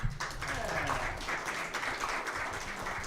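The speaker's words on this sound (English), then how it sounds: "give Ernie another round of applause" Audience applause for Ernie at a live show, a faint, steady patter of clapping throughout with a low hum and some voices beneath.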